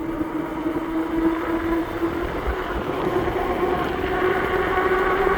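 A Lacros Thunder full-suspension electric bike running at full throttle without pedaling, giving a constant motor whine over steady rolling and wind noise that holds loud and even throughout.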